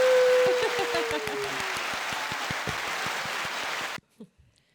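A burst of clapping applause, dense and steady for about four seconds before cutting off abruptly to near silence, with voices faintly audible afterward.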